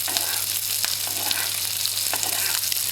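Halibut pan-frying in foaming butter with thyme: a dense, steady crackling sizzle close by, with faint spoon scrapes and little taps on the pan.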